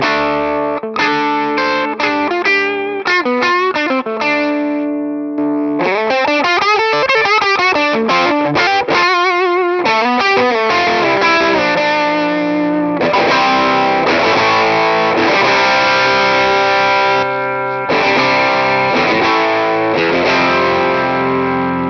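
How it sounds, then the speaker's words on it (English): An electric guitar plays through a Tone King Falcon Grande amplifier on its lead voicing, giving a loud, driven, sustained lead line with bends and fast runs that continues for over twenty seconds. "And finally the lead sound, so it's just going to tighten up that lead sound and make it push through even more."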